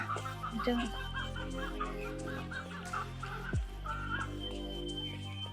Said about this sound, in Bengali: মুরগি